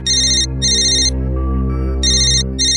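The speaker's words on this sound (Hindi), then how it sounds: "डेंजू का फोन।" An electronic phone ringtone plays in repeated bright, high-pitched chiming bursts with short gaps between them, loud and close over a steady low background tone.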